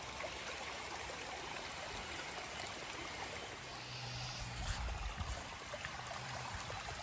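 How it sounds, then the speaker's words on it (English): Floodwater after a storm rushes through a creek bed in a vegetable garden with a steady, faint, broad wash of flowing water, continuous and unbroken, with no voices. "this is the creek bed that we installed for this purpose here in the vegetable garden, and it is working quite well, but it is about to overflow itself"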